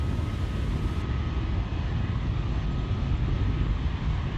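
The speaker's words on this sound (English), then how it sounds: "Falcon 9 has cleared the tower at Space Launch Complex 4 East" A SpaceX Falcon 9 rocket climbing away from Space Launch Complex 4 East in California, its engines giving a steady, heavy, rumbling roar that fills the whole stretch at a distance.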